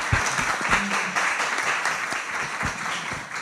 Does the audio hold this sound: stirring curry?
no